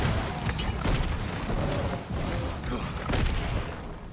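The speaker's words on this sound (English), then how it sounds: "killing beasts made of fire with a fiery explosion" In a video game, a fiery explosion kills beasts made of demonic fire, giving a dense, rumbling barrage of booms and crackling blasts that runs continuously and loudly throughout.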